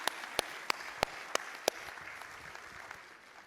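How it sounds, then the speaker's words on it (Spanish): A brief burst of church congregation applause, with several sharp claps standing out near the start before fading into a soft, diffuse crowd murmur. "Dale un fuerte aplauso a Él."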